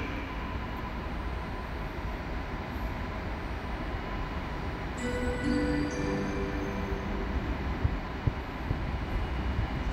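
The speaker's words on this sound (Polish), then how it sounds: "Pociąg ten ze stacji Opole Główne wjedzie na tor drugi przy peronie pierwszym." A passenger train arrives at a station platform, a steady low rolling rumble with faint squeals of wheels and brakes rising midway, heard without speech.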